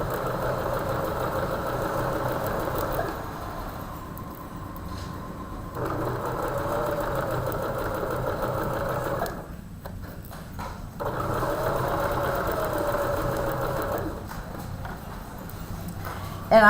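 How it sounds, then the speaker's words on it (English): A sewing machine stitches fabric at a quilting retreat, humming steadily in long runs with short pauses between seams, close and moderately loud, with faint room noise in the background. "so now we'll sew this side"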